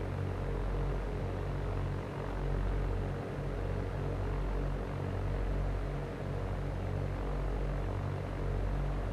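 A Cessna 172 Skyhawk bush-kit propeller plane drones steadily in flight over wilderness in the X-Plane 11 flight simulator, a continuous loud engine hum with slight swells, no talking.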